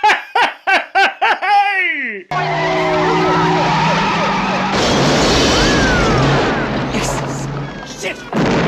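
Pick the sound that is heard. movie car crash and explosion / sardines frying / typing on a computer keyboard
movie car crash and explosion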